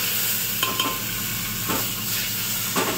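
Chopped garlic, followed by ginger, sizzles in a hot pan for a Bengali lentil dal, a steady close hiss broken by a few scraping stirs.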